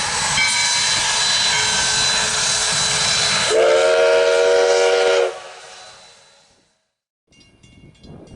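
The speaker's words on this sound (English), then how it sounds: "recently restored steam locomotive 148 on US Sugar's Railroad in South Florida" Restored steam locomotive 148 on US Sugar's railroad in South Florida vents a loud, sustained hiss, then sounds a strong steam whistle for a couple of seconds before fading to near silence.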